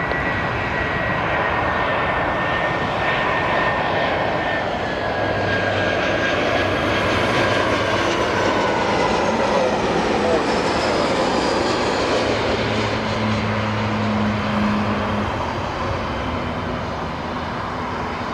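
Airliners of TAP Air Portugal, easyJet and KLM landing and taking off at Lisbon Airport, a loud continuous jet engine roar that swells and shifts in pitch, with no voices.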